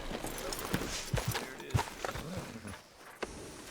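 Horse hooves clip-clop on a town street in Red Dead Redemption 2, an irregular series of close thuds mixed with ambient noise, with no clear talk over them.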